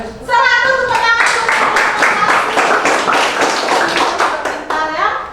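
A class of children claps in a brisk, rhythmic burst lasting about four seconds, loud and near, framed by children's voices at the start and end.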